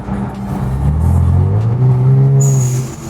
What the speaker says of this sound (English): just listen to how the blow-off valve sounds now.